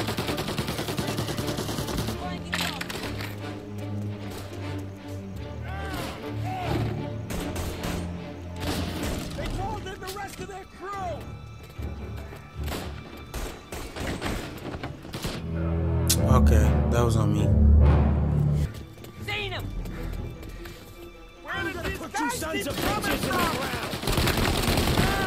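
Gunfire from the video game Mafia Definitive Edition, with rapid bursts and shots that swell into a loud, dense fusillade midway, heard alongside game sounds and occasional talk.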